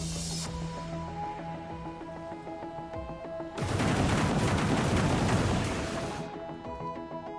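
Gunfire in the video game Industries of Titan: a dense, loud burst of rapid shots and crashes lasts a few seconds, over a steady game music and ambient tone, with no talking.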